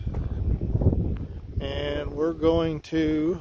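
Outdoor wind buffets the microphone with a low, rumbling roar for the first second and a half. A voice then speaks, with the wind still faintly underneath.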